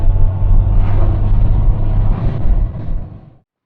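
A 1982 Porsche 911SC drives along the road in low gear, its engine a steady, loud, close rumble that continues without a break before cutting off near the end.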